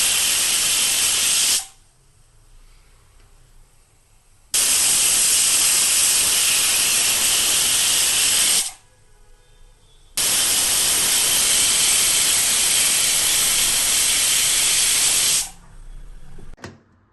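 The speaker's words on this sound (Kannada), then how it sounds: "ಇವಾಗ ಲಿಡ್ನ ಕ್ಲೋಸ್ ಮಾಡಿಬಿಟ್ಟು 3 ವಿಷಲ್ ಆಗೋ ತನಕ ವೆಯ್ಟ್ ಮಾಡೋಣ" A pressure cooker making soya methi pulao hisses loudly with steam in long, harsh bursts, cutting off twice for brief quieter gaps before resuming, and then fading at the end.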